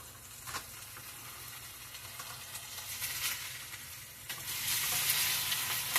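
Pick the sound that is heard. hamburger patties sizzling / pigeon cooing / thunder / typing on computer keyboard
hamburger patties sizzling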